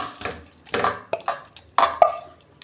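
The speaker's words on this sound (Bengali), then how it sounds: "আমি এবার ঢেলে ফেলছি।" Cauliflower, potato and eggplant curry is tipped out of a pot, giving a series of spaced metallic clanks and scrapes of spoon against cookware, fairly close and with no talking.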